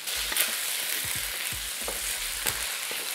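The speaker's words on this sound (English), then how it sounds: "And now drop in the meat. Stir the meat until they're evenly cooked." Meat stir-frying in a wok with doubanjiang to come, a steady close sizzle broken by repeated low scraping knocks of the spatula against the pan, no voices.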